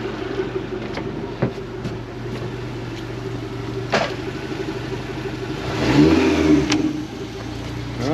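A Suzuki DF115 four-stroke outboard idles with a steady low hum, then revs up and back down once in a brief rising and falling sweep, heard up close with a few faint clicks and no talk.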